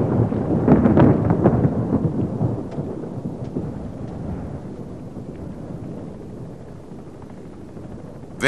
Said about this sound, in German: sieht aus, als ob ein Gewitter aufzieht